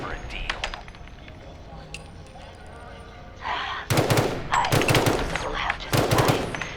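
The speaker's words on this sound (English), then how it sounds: "Dude, I love shooting now." Revolver gunfire in Fallout 4 VR: after a stretch of quieter game sounds, several loud, sharp shots crack out in separate bursts over the last few seconds.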